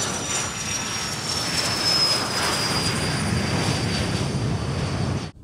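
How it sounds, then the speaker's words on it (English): A jet aircraft takes off on a runway directly ahead. A loud, continuous engine roar with a high whine holds steady throughout, then cuts off sharply at the end. "We got a jet taking off right in front of us."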